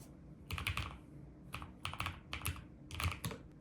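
Typing on a NuPhy Air75 V3 low-profile wireless keyboard: three quick bursts of soft, clicky keystrokes in fast rhythm, close and fairly quiet, with no voices.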